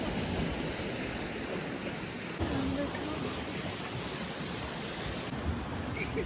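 Water waves wash against the shore at Pelee Point, the tip of Canada, as a steady, broadband rush of surf that fills the whole clip, with a faint murmur of voices underneath.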